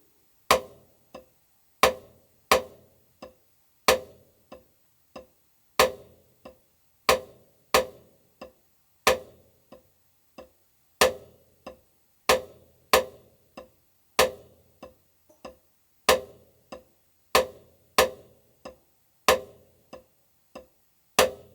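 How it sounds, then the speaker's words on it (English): Single paradiddle played on a drum practice pad, sharp wooden taps in a steady repeating pattern, right-hand strokes accented loud and left-hand strokes soft, heard alone and up close. "So the next step is to play with the right hand accented strokes all the time, and the left hand plays soft strokes"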